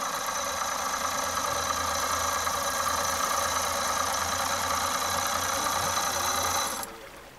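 A brand-new two-stroke boat motor in very good condition runs steadily and loudly with an even buzzing drone, then cuts off abruptly near the end.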